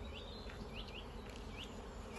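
A close, steady hum of honeybees fills the air at an open hive during a spring apiary inspection, with single bees whining past in rising and falling arcs over the constant drone.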